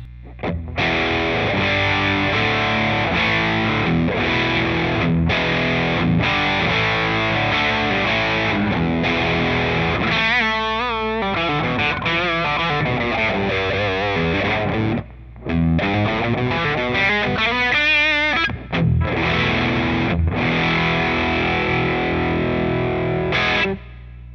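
Electric guitar through hard-clipping diode distortion, harsh clipped saturation playing continuous chords and a fuzzy lead run, loud and dense with brief gaps.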